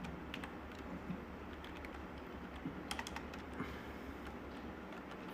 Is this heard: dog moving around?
no